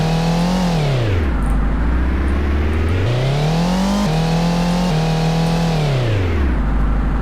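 A synthetic car engine in a Godot-built video game whines loudly and continuously, its pitch climbing and then dropping sharply several times as the car accelerates and brakes, with no voices over it.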